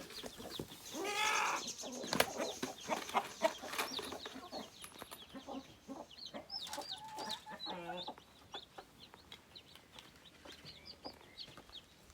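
Several curious hens cluck in short, scattered bursts near a newly built coop for chicks, close and fairly quiet with occasional knocks and rustles between calls.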